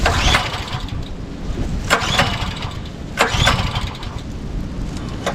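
A small gas engine on a used Dirty Hand Tools 22-ton log splitter is cranked and sputters to life, close and loud, with rough uneven chugging and a few sharper bursts as it catches.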